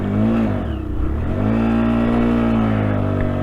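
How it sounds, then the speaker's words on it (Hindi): A motorcycle engine idles steadily on a cold mountain road toward Shinku La, a low loud hum with a brief dip and rev near the start, then holding even, alone without talk. "बाइक बंद नहीं करनी अब"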